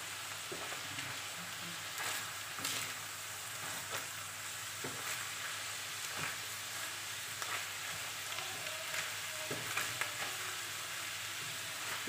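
Garlic sizzles in a hot pan while being stirred for a low-carb cottage pie, a continuous close crackle broken by occasional scraping and clinking from the stirring.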